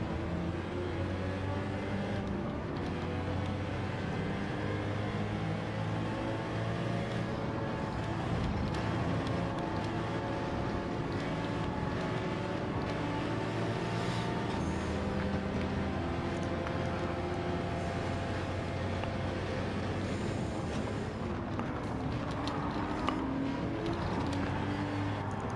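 A Porsche World Touring Car 800 race car engine drones steadily through a lap of Watkins Glen in an endurance race in Gran Turismo 7, its pitch gliding up and down with gear changes at a moderate, even loudness.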